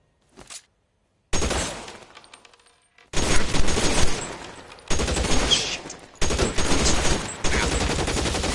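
Gunfire in the video game L.A. Noire: a brief pop, then several loud, sustained bursts of rapid shots separated by short pauses, with no talking.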